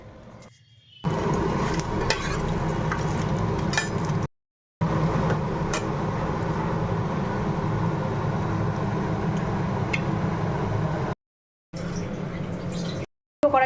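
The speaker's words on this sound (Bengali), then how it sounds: "মাছের মাথাটা আবার একটু অল্প করে ফ্রাই করে নিলাম" A fish head fries in oil in a kadai, giving a steady close sizzle with occasional clinks of a utensil; the sound cuts out briefly a few times.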